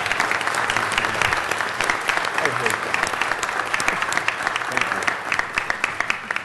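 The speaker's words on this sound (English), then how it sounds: "So I'd ask that the members give Mr. Krikorian a round of applause," Council members at a city council meeting break into sustained applause, a dense, even patter of many hands clapping close by for several seconds.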